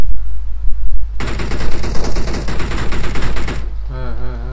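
Automatic gunfire in the PUBG Mobile battle royale game: a loud, sustained rattling burst of rapid shots lasting a couple of seconds, with brief game effects before and after and faint voices in the background.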